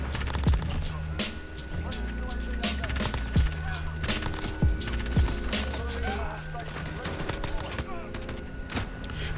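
Gunfire in Modern Warfare, likely an MP7, with rapid bursts of shots and scattered single cracks over several seconds, mixed with game sounds and a steady background tone.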